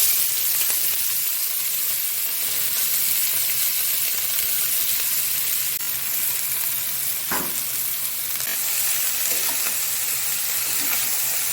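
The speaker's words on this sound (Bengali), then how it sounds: "ব্রাউন কালার হলে এবার আমি দেব কেটে ধুয়ে রাখা বাঁধাকপি" Washed cabbage hits hot oil with browned cumin and fries in a loud, continuous sizzle, with occasional soft stirring scrapes breaking through the steady hiss.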